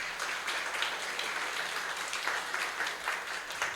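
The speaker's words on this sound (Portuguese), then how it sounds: "Vamos aplaudir a palavra de Deus" A church congregation applauds after a Gospel reading during Mass, sustained even clapping from many people across the whole moment, without speech.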